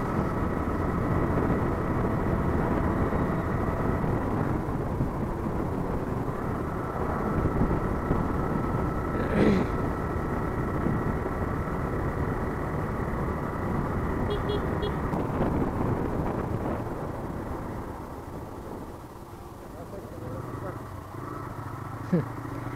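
Road traffic with cars and totos on a narrow single-lane road in Murshidabad, India, heard from a moving motorcycle: a constant engine and wind rumble with passing vehicles, while a voice talks over it.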